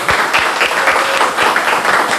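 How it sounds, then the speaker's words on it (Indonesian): An audience claps for a guest on an Indonesian podcast, a steady dense applause with sharp individual claps throughout, fairly loud and close. "Sekali lagi boleh beri tepuk tangan untuk Khalil Mahmud."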